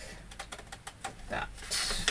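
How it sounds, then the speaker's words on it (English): Big scissors snip through paper while an envelope is being crafted, giving a quick series of crisp, fairly faint cuts in an even rhythm with a soft close crunch near the end. "I'll take my big scissors and I'm going to cut just on the inside of this"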